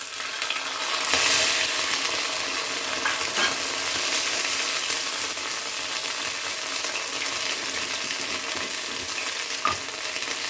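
Cashew and poppy seed paste fries in hot oil for Bengali-style doi paneer, with a loud spattering hiss that swells early on and then settles into a steady sizzle marked by occasional sharp pops.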